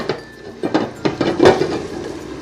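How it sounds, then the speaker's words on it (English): A lid is placed on a pan of simmering teriyaki salmon with homemade teriyaki sauce. Several close, clattering metallic knocks come in quick succession, with the loudest clank near the middle, over a faint background hiss. "You want to go ahead and put your lid on"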